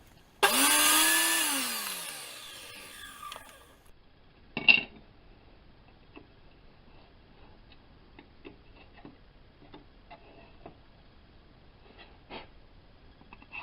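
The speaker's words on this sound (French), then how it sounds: "Et on vient faire sa deuxième rainure" A power router whines loudly for a few seconds while cutting a second groove in wood and spins down, followed by a short scrape and then quiet ticking and small knocks.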